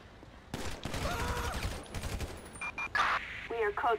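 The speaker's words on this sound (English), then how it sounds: "shots fired. Shots fired." A rapid volley of gunshots goes off in GTA V with the LSPDFR police mod during a Paleto Bay call, followed by clipped radio-style chirps and tones, with speech mixed in.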